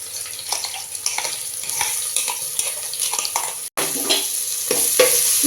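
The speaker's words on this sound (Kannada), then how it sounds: "ಇದು ಎಣ್ಣೆನಲ್ಲೇ ಚೆನ್ನಾಗಿ ಫ್ರೈ ಆಗಿ ಹಸಿ ವಾಸನೆ ಎಲ್ಲ ಹೋಗುತ್ತೆ" Ginger garlic paste frying in oil with lengthwise-cut onion for palak pulao, a continuous near sizzle with frequent spatula stirring and scraping, one brief dropout, no talk.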